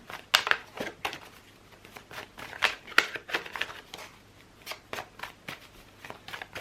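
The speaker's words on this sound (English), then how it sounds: "let's shuffle for you some oracle cards" A deck of oracle cards being shuffled by hand, with rapid, close riffling and flicking bursts of card edges in an uneven rhythm, some sharper snaps standing out.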